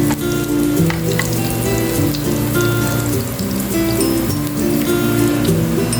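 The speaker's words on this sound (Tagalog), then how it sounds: "So haluin natin guys hanggang sa hindi mag-golden brown ang ating bawang" Garlic sautéing in a pan for a Filipino mung bean and squash dish gives off a steady, dense sizzle with a soft crackle throughout, close and continuous with no talking.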